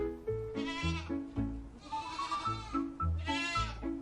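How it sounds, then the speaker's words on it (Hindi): A goat bleats in several wavering calls over a children's rhyme backing track, fairly quiet, with the bleats rising above the music. "गोट।"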